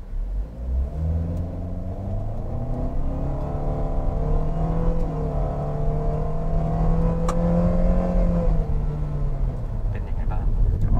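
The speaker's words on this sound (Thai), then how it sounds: "ลองสังเกตแล้วกันว่า ต่างกับรอบที่แล้วไหมในเรื่องของการตอบสนองเวลาเร่ง" Toyota Veloz MPV accelerating in power drive mode, heard from inside the cabin as a steady engine drone that climbs in pitch and grows louder, then eases near the end.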